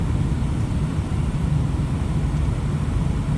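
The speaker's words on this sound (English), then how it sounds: "Just letting the vehicle wind down." Steady low diesel drone from a Nissan UD truck engine winding down after a downshift, heard from inside the cab as an even, loud rumble with no talking.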